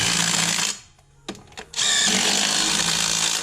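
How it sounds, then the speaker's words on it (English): A power tool runs on the wheel nuts of a 4WD hub. It gives a long loud whir, then two short bursts, and then another sustained run close by. "So we just do these wheel nuts back up."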